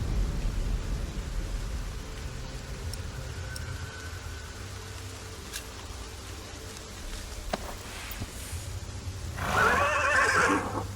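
A horse whinnies loudly near the end in the game Ken Follett's The Pillars of the Earth, over a steady low ambient hum, with faint hoof sounds in the background; no talking.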